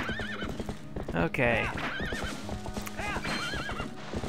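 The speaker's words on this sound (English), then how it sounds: "Bad horse, he's bad." A horse in the Zelda: Twilight Princess video game whinnies several times over steady clip-clopping hooves at a gallop, with a person talking briefly over the sounds.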